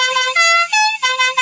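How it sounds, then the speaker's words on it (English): A cartoon kart's horn in Mario Kart 8 honks in loud, bright, sustained blasts, about three presses in quick succession, each slightly different in pitch, with no voices over it. "I honk my horn so they know I'm coming. Do you hear my horn?"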